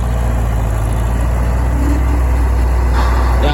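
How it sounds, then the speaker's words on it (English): A Farmall tractor engine hauls a New Holland 795 manure spreader, a steady loud mid-range rumble held close throughout with no talk over it. "I'm impressed this tractor is pulling the spreader as good as it is."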